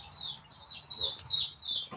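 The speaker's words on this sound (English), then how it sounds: "Y'all can hear the chicks in the background." Newly hatched baby chicks peep in the background with a string of thin, high chirps repeating steadily throughout, fairly faint and distant.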